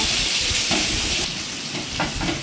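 Onions frying in oil in a pan for chicken biryani, a steady close sizzle and hiss with soft stirring scrapes, no voices.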